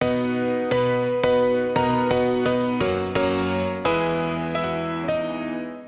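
A processed free MeldaProduction grand piano plugin plays a short pattern of chords, about ten bright, evenly spaced strikes, each sustaining into the next; no voices.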